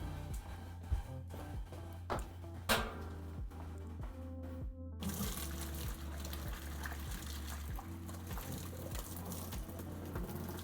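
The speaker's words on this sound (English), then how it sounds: "I'm just gonna take this away really quickly and get it out of that hot boiling water" Orzo pasta is drained out of hot boiling water, with a steady rush and trickle of pouring liquid running continuously, fairly faint, punctuated by a few clanks of cookware at the start.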